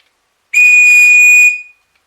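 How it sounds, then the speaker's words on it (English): One shrill, piercing blast from a small plastic survival whistle, about a second long, loud and close, then silence. "Over here, you have a very loud whistle"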